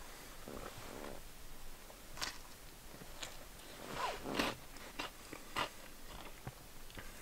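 Crunchy bites of food being eaten inside a parked truck at night while camping, several sharp close crunches spaced irregularly over a soft background hiss, with no talking.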